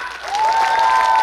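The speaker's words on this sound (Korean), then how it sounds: "다시 한번 박수" Audience applause at an outdoor touring music concert featuring a pumba street troupe, a steady dense wash of clapping that swells and holds loud throughout, with a sustained tonal hum running beneath it.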